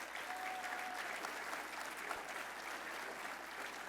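Applause for a research team at a commercial real estate trends event, a quiet but steady wash of many hands clapping, continuous and even from start to finish.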